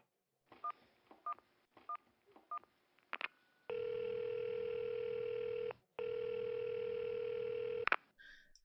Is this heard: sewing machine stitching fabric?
no